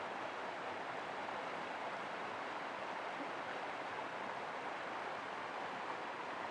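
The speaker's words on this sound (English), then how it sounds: "I like listening to the water." Steady broadband rush of water flowing in a mountain creek, continuous and even, with no voices or other sounds.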